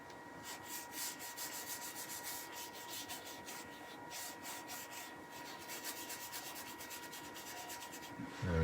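Brushing oil finish onto a turned wooden platter makes a steady rubbing swish with quick rhythmic strokes, close and soft, continuous over a low background hum.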